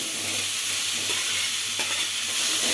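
Spice tempering with turmeric, mustard seeds and asafoetida sizzles steadily in hot oil for a raw banana curry, with soft scraping of stirring throughout, close and continuous without any talk.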